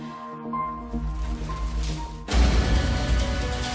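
Water from the giant tanks of a collapsed hotel pours out of severed pipes and floods the lobby, first as tonal dripping and trickling, then as a sudden loud, broadband rushing gush.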